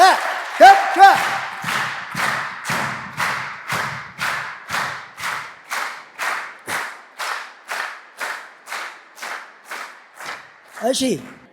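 An audience at a weekly training session in Ethiopia claps in slow, even unison for about twenty beats, each clap crisp and close, with a voice briefly heard at the start and end.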